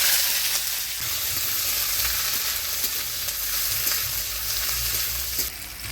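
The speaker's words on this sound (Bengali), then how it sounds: "এবার দিয়ে দেবো পেঁয়াজ কুচি।" Chopped onion sizzles in hot oil with dry red chilli and black cumin, a steady, loud frying hiss throughout with occasional stirring, no voices, in a Bengali village kitchen.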